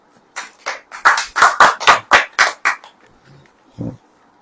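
A church congregation claps hands during a sermon: a run of about a dozen sharp, evenly spaced claps in a quick rhythm, close and loud, fading out, followed by one softer thump.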